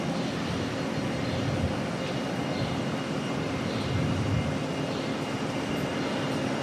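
Qantas airliner in Retro Roo livery taxiing out at Auckland Airport for Melbourne, a steady broad engine roar with a faint whine that holds evenly throughout and stays at moderate distance.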